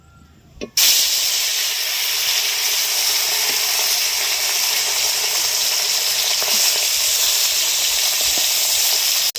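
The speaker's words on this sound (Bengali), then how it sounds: "তেল গরম হয়ে গেছে, মাছ দিয়ে দিচ্ছি।" Khalse fish fried in hot oil in a wok over a wood-fired clay stove: after a brief quiet moment, a loud, steady hiss and sizzle erupts and holds continuously, close and dense.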